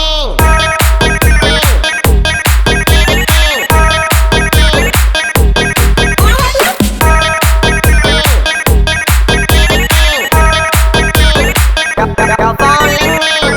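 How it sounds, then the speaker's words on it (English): A repeating phone ringtone melody is built into a loud electronic dance track, its bright chiming pattern pulsing steadily over heavy beats from start to finish. "Your phone ringing."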